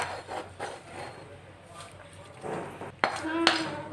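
Utensil scrapes and clinks as a coconut mixture is spooned from a pan onto a plate, with soft scraping followed by two sharper metallic taps near the end.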